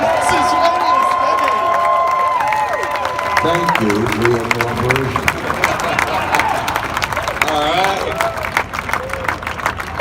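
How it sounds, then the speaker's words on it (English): A crowd claps and cheers amid lively hubbub, while a voice speaks over the noise. "Give another round of applause"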